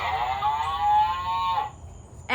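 A person's voice imitates a cow with one long, drawn-out moo that slowly falls in pitch, then breaks off abruptly, recited during a children's story.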